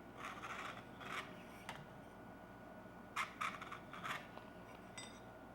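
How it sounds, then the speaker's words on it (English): Faint scraping strokes of a scribe tool dragged along the edge of a stainless san mai hunting knife blade, a few short rasps on one side, then a couple more from the other, near but quiet with no talking. "scribe from one side, scribe from the other"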